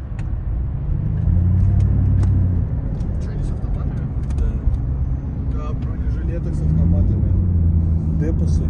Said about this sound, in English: There's a huge Ural truck right there